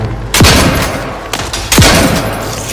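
Three heavy explosions from grenades thrown in the video game Outer Worlds 2, each a loud sharp blast with a rumbling tail, spaced unevenly about a second apart and filling the foreground.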